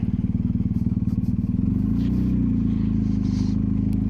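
A motorbike engine throbs close by, its rapid pulsing smoothing into a steady roar as it rides past on a rural road in Tasmania.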